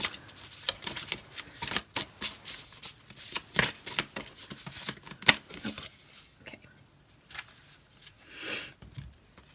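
Tarot cards are shuffled in the hands and pulled from the deck, giving a quick run of papery riffles and flicks that slows into a few softer slides and taps, close and quiet with no one speaking.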